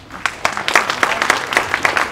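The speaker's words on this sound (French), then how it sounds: "Vous les applaudir très fort" A theatre audience applauds a school class after its performance at a show, with steady close clapping from many hands that builds and holds for the whole stretch.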